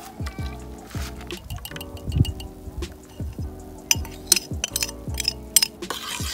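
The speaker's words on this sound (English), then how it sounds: "we're gonna pour in the baking soda and the vinegar mixture at this point" Baking soda and vinegar mixture is poured into a glass container, sounding as a liquid trickle with a steady run of clinks and light glassy taps, all close and fairly quiet.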